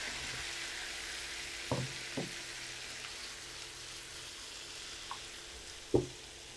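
Egg balls frying in hot oil, a steady broad sizzle running throughout with a few sharp pops and spatters, moderately loud and close, no voices.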